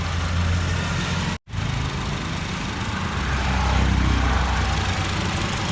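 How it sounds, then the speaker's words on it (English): A Honda City ZX GXi engine idles during decarbonization, a steady low rumble briefly cut by a split-second gap, then continuing evenly and fairly loud with no talking. "So if you see the engine sound, it has reduced a little bit"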